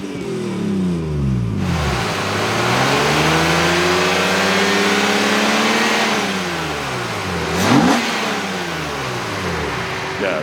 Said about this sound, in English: The induction noise is really nice.